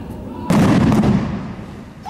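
A single loud blast on a Dead Rising zombie film set, a sudden broadband burst that rumbles for about a second and then slowly decays, followed by a fainter trailing rumble.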